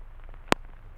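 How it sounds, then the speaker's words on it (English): Faint, steady hiss of vinyl crackle with one sharp, loud pop near the middle, close and alone. "I'll throw in a vinyl sample."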